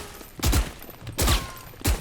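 Gunfire in a first-person shooter game with strafing movement, heard as three short, loud bursts of rapid shots spaced apart, with quieter game ambience between them.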